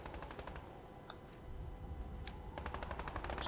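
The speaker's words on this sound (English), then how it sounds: "Are they shooting the Clombo?" Gunfire in the video game Fortnite: rapid automatic bursts crackle through a steady noisy game background, with several clusters of quick shots in a row, fairly distant, and no voices.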